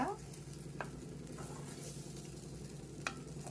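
Ridge gourd chutney ingredients fry on an iron pan, a faint steady sizzle broken by a few sharp spatula clicks and scrapes, with no talking.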